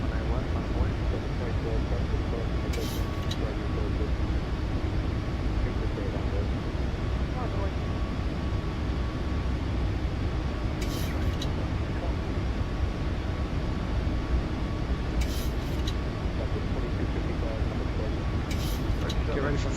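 Steady, powerful roar of Boeing 737 MAX 8 engines at takeoff thrust in Microsoft Flight Simulator 2024, a constant broadband drone with a thin tone, while a voice speaks briefly over it.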